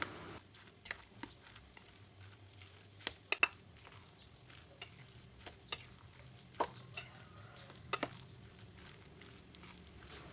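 A tofu fritter mixture of mashed tofu, egg, ground pepper, salt and mushroom stock is stirred in a bowl, giving quiet, irregular soft squishes and light taps against the bowl.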